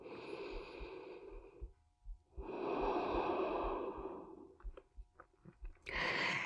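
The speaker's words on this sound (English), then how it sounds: "Take a deep breath in and out." Slow, deep breaths in and out during a hip flexor self-massage on therapy balls, with a long inhale-exhale near the start, another long one in the middle, then short soft breaths and a final one, close and quiet, with no talking.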